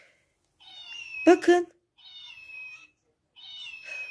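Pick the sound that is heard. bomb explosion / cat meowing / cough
cat meowing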